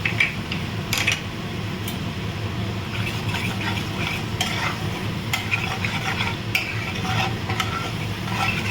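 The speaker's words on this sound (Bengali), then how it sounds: "এবারে আমি দইটা দিয়ে দিচ্ছি" Beaten yogurt goes into spice masala frying in mustard oil on a low flame, followed by steady stirring: a dense, continuous sizzle with repeated spatula scrapes and taps against the pan, close and fairly loud.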